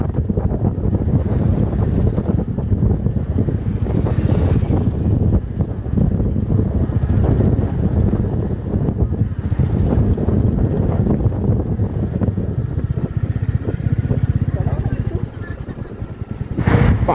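Motorcycle on a hill road toward Mirik after a long ride, engine drone under heavy buffeting wind noise, steady and loud throughout with no clear voices.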